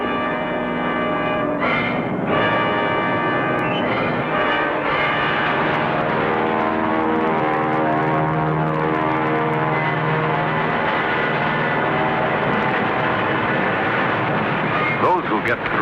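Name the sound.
WWII aircraft flying overhead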